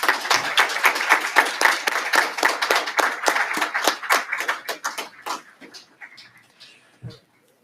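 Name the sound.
audience applause at graduation ceremony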